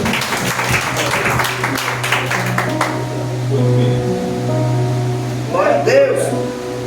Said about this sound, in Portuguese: e as palmas agradecem ao Senhor